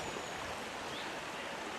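Water flows steadily in Boyce's Brook, a woodland stream, giving a continuous soft rushing hiss with no talk.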